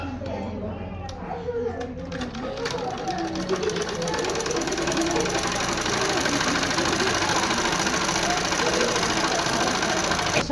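Sewing machine stitching a single blouse, a rapid mechanical rattle that starts unevenly and builds into a continuous, close, steady whir, with a voice heard at times.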